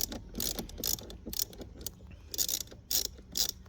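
Socket ratchet loosening the battery terminal on a Ford Mustang GT: bursts of quick, close metallic clicking strokes, a few clicks at a time with short pauses between, no talk.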